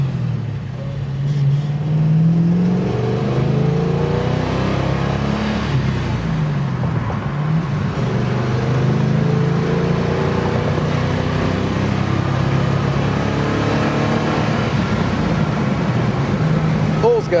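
A 1967 Mustang engine pulls hard as it accelerates on the highway, with a low droning rumble rising in pitch through the gears under steady road noise, while someone talks over it.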